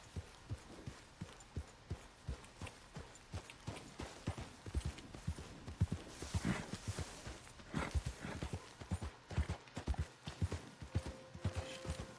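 Horse hooves clip-clopping at a steady walking rhythm in Red Dead Redemption 2, a long, even run of regular, fairly soft thuds with no talk.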